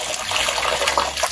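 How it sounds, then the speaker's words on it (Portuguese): Fresh water splashes and pours steadily into a pig's drinking spot on a rural farm, a continuous close gushing with small bubbling bursts and no talking. "vou colocar uma aguinha fresca pra ela beber, água pra banhar"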